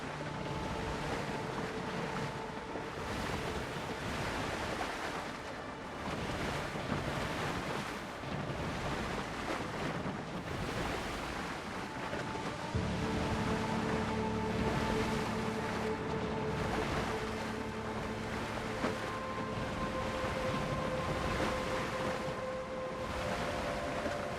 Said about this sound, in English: Wow, these waves.